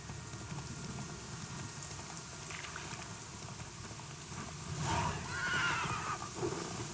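Roach the horse in The Witcher 3 whinnies once over soft rain-like ambience, a loud close neigh rising around the middle and trailing off, with no talking.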